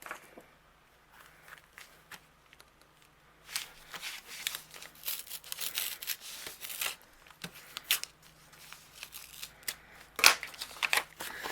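Packaging of acetate foil transfer sheets is opened, producing crinkly plastic rustles, crackles and a sharp tearing snap near the end, close and intermittent, with no talking.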